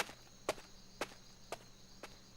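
Video game footsteps climbing apartment stairs at night: five evenly spaced, soft shuffling steps about half a second apart, close and quiet over a faint hum.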